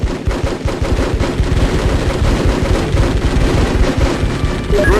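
Dense, loud automatic gunfire rattles nonstop in the PS2 military tactics game Full Spectrum Warrior, with rapid bursts layered over heavy booms. No speech sits over the shooting.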